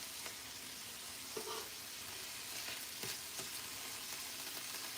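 A kielbasa skillet with onions and brown gravy sizzles quietly and steadily in the pan, with a few faint clinks and stirring scrapes and no talk.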